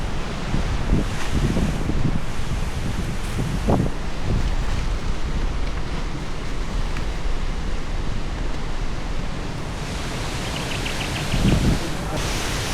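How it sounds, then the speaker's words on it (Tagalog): Strong typhoon wind during Typhoon Uwan roars steadily and loud for the whole stretch, with gusty surges and rushing noise, plus a few brief knocks and rustles. "malakas pa yung hangin, oh"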